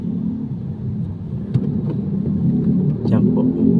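A delivery truck rumbles steadily up close as it pulls over to park on a city street, the low engine drone continuous with a slight rise near the end.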